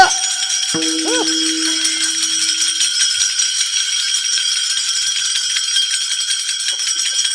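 Taal hand cymbals ring out steadily through a lively kirtan, their bright metallic shimmer sustained across the whole passage, with a brief sung or spoken tone near the start and a busy crowd-like bed beneath.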